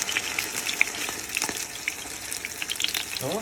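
Meat-filled crepes fry in a covered pan, giving a close, busy sizzle with small crackles and pops that runs throughout, and no one speaks.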